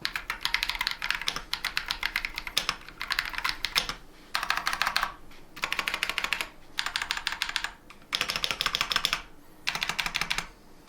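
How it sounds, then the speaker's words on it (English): Rapid typing on a KBD67 mechanical keyboard with Glorious Panda switches, in bursts separated by short pauses, with crisp, fairly loud clacks close to the listener and no talking. "we're gonna throw some keycaps on this and we can do a sound test"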